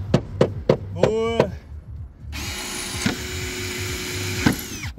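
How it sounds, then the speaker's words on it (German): Slate roof being drilled with a blunt metal drill bit: several sharp taps and a brief whirring spin-up, then a sustained grinding drill run with a couple of knocks, close and loud. "Jetzt bohren wir hier."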